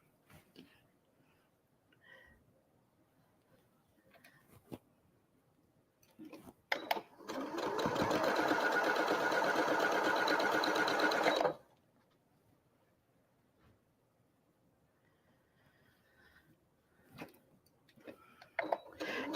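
Sewing machine stitching quilt block pieces, a steady close whirring run of about five seconds, preceded and followed by quiet handling clicks and fabric rustling.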